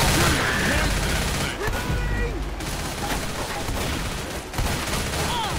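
Rapid gunfire in the zombie shooter Left 4 Dead, dense crackling bursts that run nearly without pause, with players talking over the shooting throughout.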